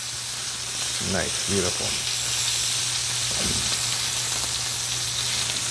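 A steak sizzles steadily in butter in a hot pan, a continuous close hiss and crackle with a constant low hum beneath, while a few brief spoken remarks break in.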